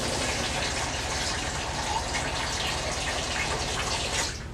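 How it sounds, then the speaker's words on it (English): Water gushes continuously into a pot holding pork ribs, a loud, close, steady pour that runs for over four seconds before easing slightly at the end. "I'm going to pour a little bit more water in there."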